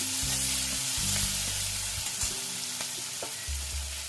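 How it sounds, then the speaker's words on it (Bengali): Chopped onion frying in hot oil in a Bengali fish curry pan, giving a steady, dense sizzle throughout with low musical tones underneath. "ওই তেলের মধ্যেই একটা পেঁয়াজ কুচি দিয়ে দিলাম।"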